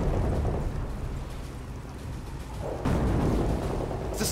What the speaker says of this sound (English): The storm is growing worse.